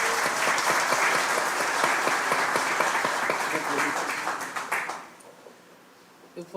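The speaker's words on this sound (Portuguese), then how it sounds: "Uma salva de palmas à Marilene" Lecture audience breaking into applause, a full round of clapping that holds steady for about five seconds, then thins to a few scattered claps and stops.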